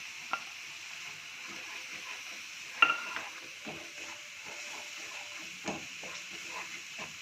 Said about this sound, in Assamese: এইখিনি অকণমান ফ্ৰাই কৰি এতিয়া মই সৰিয়হৰ পেষ্টখিনি ইয়াতে আৰু অকণমান ভাজি লওঁ